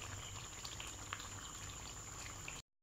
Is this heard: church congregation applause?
no